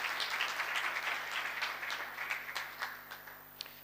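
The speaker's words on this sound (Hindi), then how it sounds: "जोरदार तालियां बजाएं यीशु के जलाल की।" A church congregation applauds after a baptism service with loud, sustained clapping that slowly thins out and turns into scattered single claps toward the end.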